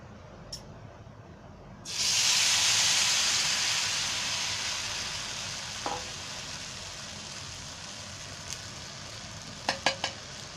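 Wheat pancake batter hits a hot dosa griddle with a sudden loud sizzle that slowly fades into a quieter crackle, with a few light clicks of a utensil.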